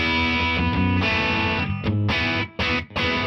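Electric guitar through a Supro Black Magick Reverb combo amp, loud ringing chords with harmonics sustaining, struck repeatedly with brief choked gaps between strums; no talking.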